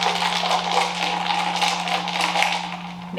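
A paper straw stirs ice in a glass jar of iced vanilla coffee, making a continuous close-up crunching, rattling swirl over a steady low hum, with no voices.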